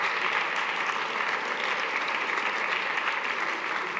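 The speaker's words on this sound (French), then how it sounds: "vous pouvez les applaudir," A congress audience in Berlin applauds at a European party gathering. The clapping is loud and continuous, a thick, even wash from a large crowd throughout.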